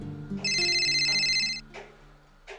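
A mobile phone ringtone for an incoming call, a bright electronic melody of repeated high tones that plays for about a second, loud and close, followed by quieter rustling.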